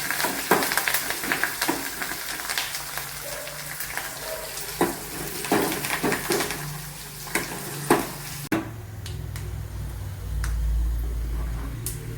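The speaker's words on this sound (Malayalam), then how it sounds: "കറി ലീവ്സ്, ഇതൊന്ന് മൂപ്പിക്കുക." Curry leaves and green chillies sizzle and crackle in hot oil while the tempering for a coconut ozhichoottan is made. Sharp pops and spits sound over a continuous frying hiss, with a brief low rumble near the end.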